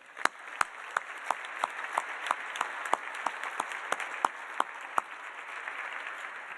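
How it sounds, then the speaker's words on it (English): Applause from a small audience at a university graduation celebration honouring the faculty, light scattered claps at a moderate distance, fairly quiet and steady. "Let's give them a round of applause"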